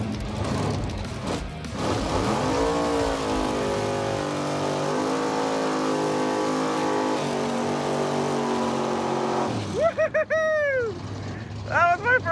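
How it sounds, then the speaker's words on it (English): A supercharged drag car does a burnout across the starting line, its engine roaring loud and sustained, rising and settling, then sharp revving blips near the end, with shouting voices mixed in. "That was my first burnout across the starting line ever."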